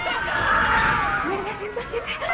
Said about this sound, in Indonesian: tiba-tiba ia mendengar suara teriakan dari luar